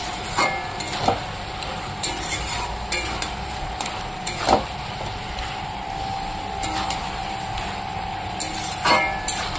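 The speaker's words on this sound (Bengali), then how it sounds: "এবার নাড়াচাড়া করে দেব।" Coriander leaves being stirred into vegetable chorchori in a pan, repeated scraping and clanking strokes over a steady low sizzle, close and fairly loud.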